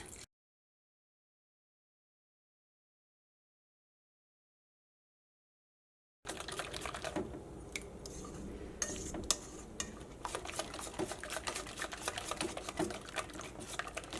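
A spoon mixes batter in a bowl as water is added little by little, silence at first, then rapid close clinking and tapping against the bowl in a busy, steady rhythm.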